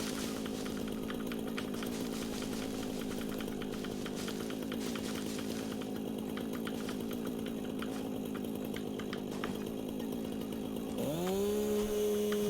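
A chainsaw runs steadily and loudly throughout while trees are felled in the Satisfactory game, its engine drone staying constant before the pitch abruptly rises near the end.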